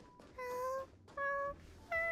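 Cake Cat creature meowing in the video game Honkai: Star Rail, three clear tonal meows in a row with short gaps, fairly close and moderately loud over a quiet game background.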